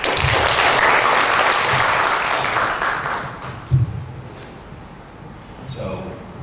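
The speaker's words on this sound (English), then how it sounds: "I want to applaud all of you" Audience applause at a startup bootcamp in Dhaka, a thick round of many hands clapping that starts full and gradually thins and fades out, with a few murmured voices and scattered noises emerging as it dies down.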